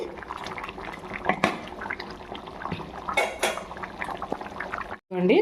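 Mutton curry simmering in a pot gives off a steady bubbling, with a few metallic clinks of a utensil against the pot and brief louder scrapes, ending in a short moment of silence.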